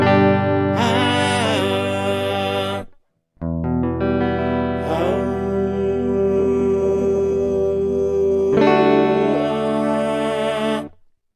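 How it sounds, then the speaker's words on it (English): Sung vocal run through a HeadRush Looperboard harmonizer, with added harmony voices stacked on each held note; three loud sustained phrases, separated by a brief silence near the three-second mark. "it's going to listen to whatever note I'm playing, and it's going to try to create a harmony around that"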